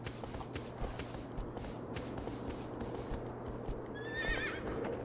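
Horse in the video game Shadow of the Colossus, with steady clip-clop hoofbeats and a clear whinny rising near the end, heard over a low game soundscape.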